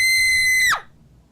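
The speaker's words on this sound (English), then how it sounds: "Gordon's screaming." A cartoon steam engine character from a Thomas-style animated episode lets out a loud, shrill, sustained scream that holds steady and then swoops sharply down and cuts off within about a second.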